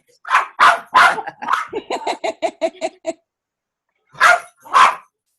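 A dog barks loudly and close in a home, a burst of several barks followed by a quick run of yips, then two more barks after a short pause.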